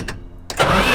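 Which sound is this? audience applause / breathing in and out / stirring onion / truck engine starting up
truck engine starting up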